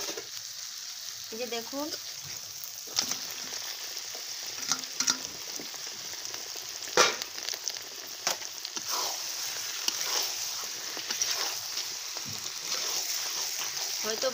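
Potatoes and chicken sizzle steadily in hot oil in a home kitchen, a close, continuous crackle with occasional stirring clinks, while someone speaks briefly over it.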